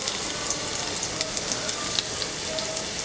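Onions with ginger, garlic, white sesame, coriander seeds, cumin and poppy seeds fry in about 20 ml of oil for a kothu parotta gravy, giving a steady close sizzle with small crackles and pops throughout.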